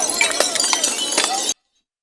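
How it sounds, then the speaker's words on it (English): Glass bottles smashing amid stone-throwing at a street protest in Spain, a dense burst of repeated shattering and clinking close by over a noisy crowd, cutting off abruptly into silence. "Stones are getting thrown, smashed bottles are getting thrown"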